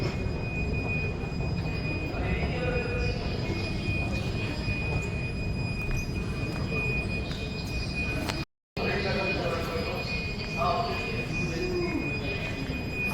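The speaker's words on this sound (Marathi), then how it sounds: "आपण आता मेट्रो पकडायला स्टेशनच्या जवळ आलो आहे" Deep, continuous rumble of a Mumbai Metro Aqua Line 3 train moving through an underground station, with faint voices in the background and a brief cutout partway through.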